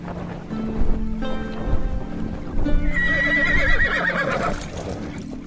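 A white winged horse, Pegasus, gives a loud, wavering whinny that rises and falls, set over a busy background of hoofbeats and rolling surf.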